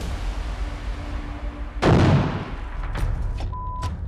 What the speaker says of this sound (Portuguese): O morteiro está trabalhando.